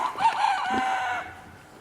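A pasture-raised chicken crows and clucks near its feeder, with a single close, drawn-out call that rises and fades within a couple of seconds and no talking.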